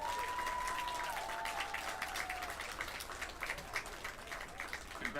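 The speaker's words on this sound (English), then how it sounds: "Let's hear a final round of applause for the 2022 football court." A crowd at a junior football awards night gives a final round of applause for the 2022 football court: sustained clapping from many hands, moderately distant, continuing steadily throughout.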